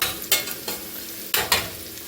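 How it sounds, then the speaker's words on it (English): Butter sizzling and crackling in a pan for chicken pot pie, a soft steady fry punctuated by a few sharp scraping stirs. "you can hear our butter starting to sizzle"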